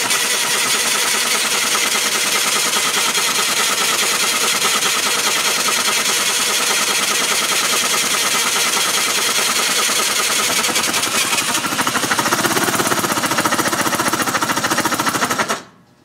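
Mini Hog small engine running at half throttle, a loud steady buzzing drone that holds continuously for about fifteen seconds before cutting off abruptly at the end.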